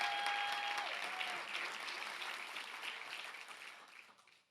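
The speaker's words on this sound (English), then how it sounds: "Let's give her another round of applause." Warm audience applause at a gala, full and close at first, then gradually thinning and fading out toward the end.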